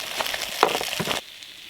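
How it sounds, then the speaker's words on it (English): Smoked chorizo sausage fries in a pan outdoors on a beach, a brief crackling sizzle with scattered pops and stirring clatter that cuts off abruptly near the end, close and moderately loud. "Andy's just frying up some smoked chorizo sausage"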